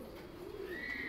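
Soft pigeon coos, a low throaty murmur close by, with a faint higher whistle-like tone near the end.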